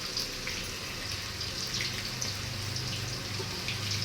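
Chicken 65 pieces fry in hot oil, a steady, even sizzling hiss with no break, moderately quiet and close, no talking.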